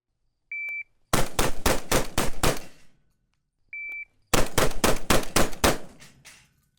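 Inertia-driven shotgun firing Federal Top Gun shells in two loud rapid strings of about six shots each, every string preceded by a short electronic beep, outdoors with no talking.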